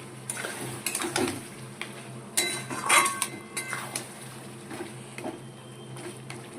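A cashew-poppy paste is stirred into chicken rezala in a metal pan, with a spoon clinking and scraping against the pan in uneven bursts over a faint low background; no voices.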